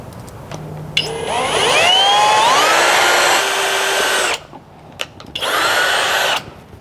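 A power tool bolts a side skirt onto a Honda Civic with a loud, close whir that climbs in pitch, holds for a few seconds, stops briefly, then starts again for a shorter second burst.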